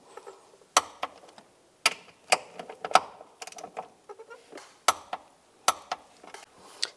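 Sharp, irregular metallic ratchet clicks from a wrench tightening the shock absorber bolts on a 2004-2010 BMW X3, coming in short bursts and single snaps close by, with no talking.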